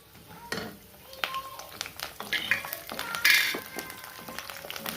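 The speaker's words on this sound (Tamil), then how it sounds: "இப்போ எடுத்து வச்சு தாளிப்பு ஆட் பண்ணுறோம்." Tempering for tamarind rice goes into hot oil, crackling and popping in bursts of sharp sizzles with occasional clinks of a pan and utensil.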